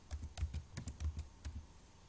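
Quiet, close keystrokes on a computer keyboard, with about a dozen irregular clicks and taps over two seconds and no talking.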